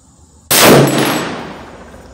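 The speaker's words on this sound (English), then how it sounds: "going for the third shot" A single loud rifle shot at an outdoor shooting range, a sharp crack followed by a long ringing decay with no voices.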